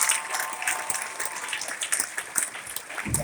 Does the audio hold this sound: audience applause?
yes